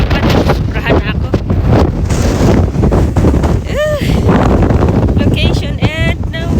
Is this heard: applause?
no